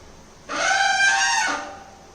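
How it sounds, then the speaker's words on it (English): A bicycle disc brake contaminated during servicing lets out a single loud, high-pitched squeal lasting about a second, clear and close against a quiet background. "Today we are going to fix screeching brakes on your bicycle."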